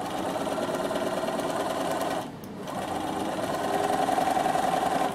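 A Bernina sewing machine runs steadily while top stitching, a close, even whirring hum that pauses briefly mid-way and then resumes.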